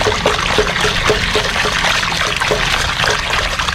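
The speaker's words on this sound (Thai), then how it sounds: "นี่ใช้เป็นวิธีไหลน้ำก็ได้นะครับ" Raw shrimp are rinsed under a continuous stream of running water, giving a loud, close, steady gush and splatter with faint rhythmic trickling that keeps going without a break.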